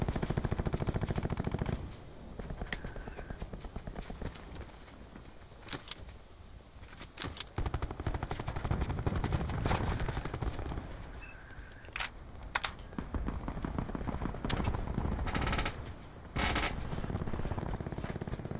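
Video game gunfire as a player character gets shot up: loud, sharp broadband shots in scattered single cracks and short clustered bursts, separated by brief lulls over a steady, busy background of game noise, with no voices.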